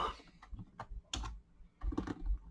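Fingers type on a computer keyboard in short clustered bursts of clicky keystrokes during work in an embedded Python shell, with brief pauses between runs and no talking.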